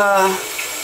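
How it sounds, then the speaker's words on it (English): Water runs from a tap in a steady, close hiss that follows a brief tonal sound at the start. "I'm gonna add water and hope that works."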